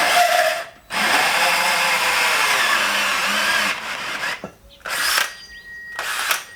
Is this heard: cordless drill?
yes